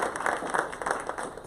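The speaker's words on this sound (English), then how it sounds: "let's give him another big round of applause." A short burst of audience applause for a guest speaker at a startup lab event, many hands clapping briskly and fairly close.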